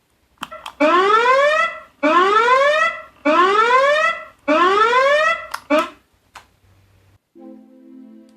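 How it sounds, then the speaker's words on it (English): A loud homemade electronic zombie alarm sounds in four long, identical rising warbles with short gaps, followed by a few clicks and a low buzz. "Today, I'm going to show you how to make this zombie alarm."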